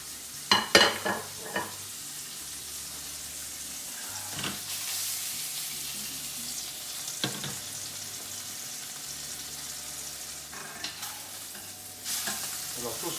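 Peppered veal filet mignon sears in a hot pan with a steady, moderate sizzle, punctuated by a few sharp clinks and clatters near the start and scattered later.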